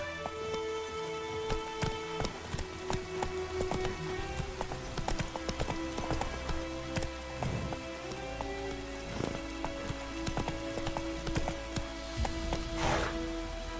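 Roach the horse from The Witcher 3: Wild Hunt trots with steady, close clip-clop hoofbeats on wet ground while rain patters continuously in the background.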